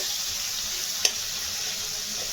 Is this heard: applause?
no